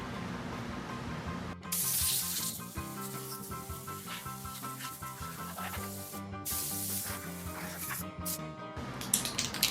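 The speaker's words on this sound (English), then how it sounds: "I got some kind of primer, sealer, combo in a can from the parts house." An aerosol can of primer-sealer combo sprays onto a vehicle firewall in long, steady hissing bursts with brief pauses between passes, close and fairly loud over a constant tonal background.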